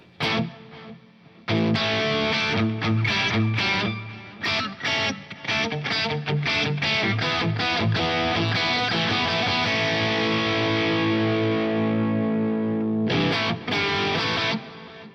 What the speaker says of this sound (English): this is just a standard stereo delay